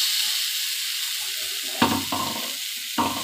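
Taro pieces fry in hot oil in a pan for a Bengali bhorta, with a constant loud sizzle and a few sudden bursts as the pieces hit the oil and are turned.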